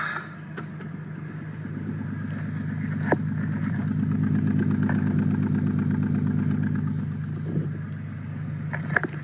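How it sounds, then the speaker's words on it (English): A BMW M3 engine with a misfire runs steadily at idle, a close, loud low rumble with an uneven pulsing beat and a few sharp knocks, with no talking. "the next toy with an issue is M3. Just got a bit of a misfire."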